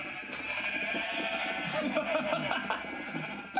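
Sheep in the Minecraft video game bleat repeatedly at a moderate distance, wavering cries running under people talking.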